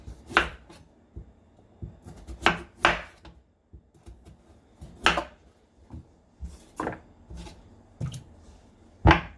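Sweet potatoes chopped with a knife for homemade dog chews, giving a series of crisp, close cuts and board knocks in an irregular rhythm, some blows sharper and louder than others, with no talking.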